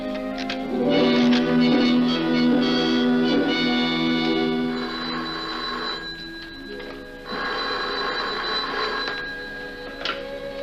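An old-fashioned telephone bell rings loudly in a government minister's office, with repeated metallic trills separated by short pauses and no voices over it.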